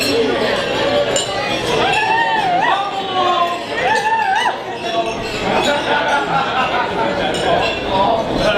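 Wedding reception toast. A few light glass clinks stand out over the loud murmur and chatter of a crowd of guests, and voices talk throughout.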